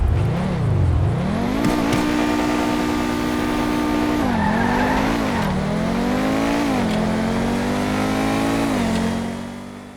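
Pegassi Osiris supercar, a Pagani Huayra-style model in GTA 5, driving with a loud continuous engine note that rises and falls through gear changes, with brief tire squeal and steady revving throughout.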